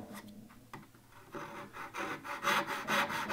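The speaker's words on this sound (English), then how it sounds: "Now begin to saw down the kerf, making sure your saw stays straight." Hand saw cutting a kerf in wood for a miter box, with steady back-and-forth rasping strokes that start lightly and grow louder and more regular, close up and alone.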